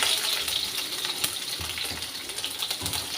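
About ten to twelve garlic cloves fry in hot oil for a shallot pickle, giving a continuous close, hissing sizzle with a few soft stirring knocks and no voices.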